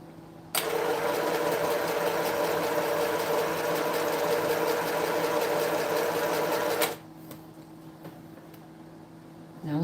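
A sewing machine stitches a quilt seam in one steady, loud whirring run of about six seconds with a fast mechanical hum. It stops abruptly, leaving a quieter room with faint clicks before the motor starts again at the end.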